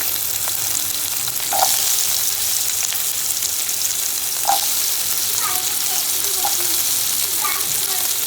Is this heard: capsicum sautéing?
yes